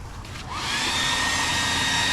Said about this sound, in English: Put the hair dryer on max.